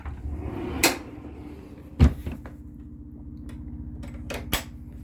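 A solid wooden cabinet door inside a converted Marathon bus is shut with a few sharp knocks and clunks, each thud crisp and close against a low background rumble.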